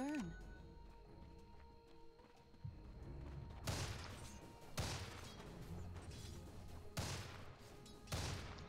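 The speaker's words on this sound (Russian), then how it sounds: "Вот так стреляет снайпер." The Sniper hero fires in a Dota 2 match with four sharp, heavy gunshot bursts spaced a second or two apart. A commentator talks throughout.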